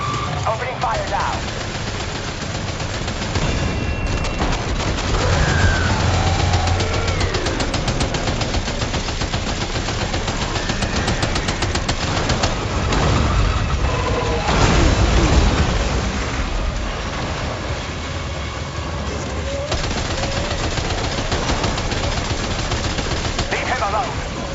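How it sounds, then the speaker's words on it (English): Dense bursts of machine gun fire fill a Death Stranding 2 battle, loud and nearly continuous rapid rattling with occasional heavier booms and blasts layered over game sound effects and voices. "Opening fire now."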